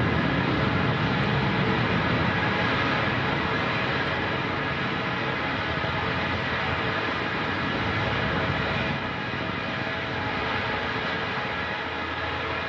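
A Northrop Grumman Antares rocket roars during the NG-15 cargo launch to the International Space Station, a steady, dense, continuous rumble with no breaks, heard from a distance.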